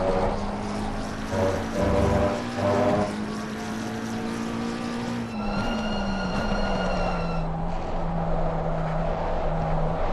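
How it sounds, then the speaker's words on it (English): A race car in Assetto Corsa Competizione multiplayer at Spa-Francorchamps drones loudly, its engine pitch stepping down as the car slows hard under a steady rush of road and wind noise. "Very noisy braking."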